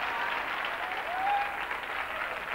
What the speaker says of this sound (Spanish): ¡Dejen de aplaudir!